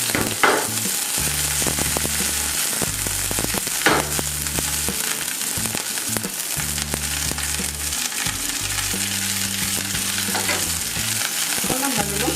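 Onion rings and dried red chili fry in heated oil over medium flame, a loud, dense crackling sizzle running throughout with a repeating low hum in the background and occasional stirring clatters.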